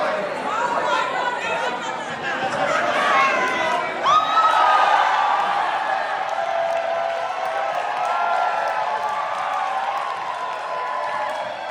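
Crowd cheering and shouting at a Greens by-election victory party, a dense, loud, sustained roar of many voices with whoops rising and falling throughout.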